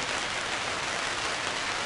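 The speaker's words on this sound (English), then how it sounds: "As you can probably hear, it's raining outside." Steady rain falling outside in a backyard under an awning, a dense, even hiss of drops on surfaces with no breaks, moderately loud and continuous.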